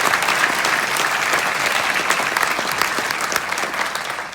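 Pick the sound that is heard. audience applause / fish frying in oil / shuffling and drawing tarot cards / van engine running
audience applause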